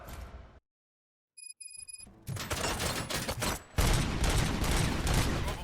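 Gunfire in the video game RoboCop: Rogue City erupts after a brief silence and a few electronic tones, a dense, continuous burst of shots and clatter that grows louder near the end.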